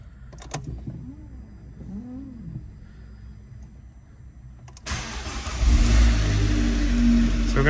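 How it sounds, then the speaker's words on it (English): An Abarth 595 hot hatch engine, just refilled with coolant after a rebuild, starts partway through and settles into a loud steady idle as it warms up, following quieter clicks and faint background sounds. "We're going to let the engine warm up, just keep an eye on the temperature gauge, make sure the fan kicks in"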